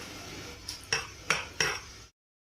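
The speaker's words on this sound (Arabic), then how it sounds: "نحط القشطة كده ونبتدي ايه نفرد بالمعلقة بالراحة." A spoon spreads cream over a dessert in a dish, scraping and clinking against the dish in four distinct strokes close by, each a short metallic swipe, before everything falls silent.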